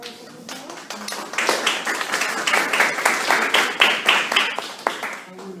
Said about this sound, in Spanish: Lo recibimos también con un aplauso, por favor.